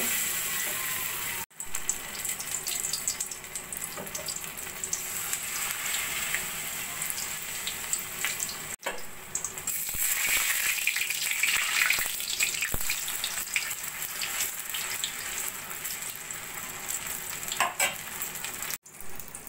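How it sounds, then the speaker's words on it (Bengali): Battered paneer pieces deep-frying in a kadai of hot oil, a steady close sizzle and crackle running throughout with a few brief clicks and dips, no voices. "এবার একে একে এই পনিরের পিসগুলো আমি ভেজে নেব।"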